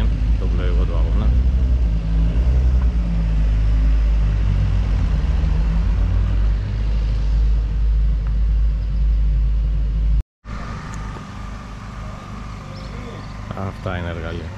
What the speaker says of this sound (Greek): τα Porsche έχουν τρελό ήχο